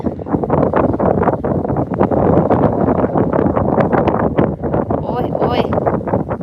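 Strong wind in Finland buffets the microphone in a steady, loud roar of gusts, with a voice speaking over it.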